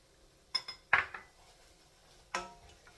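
Chopped garlic stirred in a pot with a utensil, giving a handful of sharp metallic clinks and scrapes against the pot, close and clear, with quiet gaps in between.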